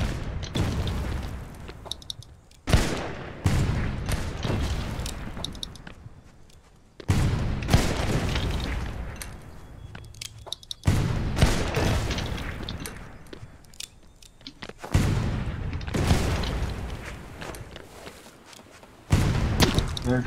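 Repeated heavy booms from a shoulder cannon firing in the pirate ship game Blazing Sails, several loud bursts a few seconds apart with rumbling tails between shots.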